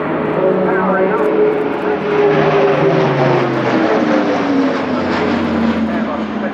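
Turboprop engines of an Airbus A400M Atlas at an airshow roar steadily, with droning propeller tones shifting pitch while a commentator talks over the loud aircraft noise.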